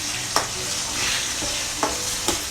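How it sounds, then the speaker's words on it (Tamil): Ground mint-coriander paste with garlic sautéing in a pan gives a steady, quiet sizzle, broken by a few sharp scrapes of stirring, with no talking. "நம்ம ஏற்கனவே அரைச்சி வச்சுருக்கிற அந்த பேஸ்டிங் இதாக கூட சேர்த்து நல்லா வந்து வதக்கிக்கணும்"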